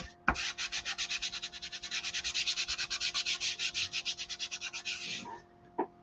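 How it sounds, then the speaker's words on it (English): A squeegee drags paste down across a silk screen in a rapid series of scraping strokes, steady and close for about five seconds, ending with a couple of light knocks, with no talk. "I'm just going to drag it down the silk screen area."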